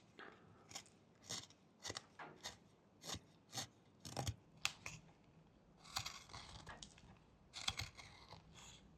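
A knife makes stop cuts into a small wooden goose figure while whittling: a series of faint, crisp scraping and crunching strokes, roughly one or two per second, heard close up with no talking.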